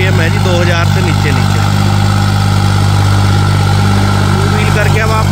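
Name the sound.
modified tractor engine running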